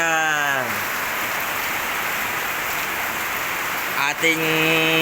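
Steady hiss of heavy, intensifying rain falling on a surface, continuous and even, with a brief tonal electronic sound at the start and near the end.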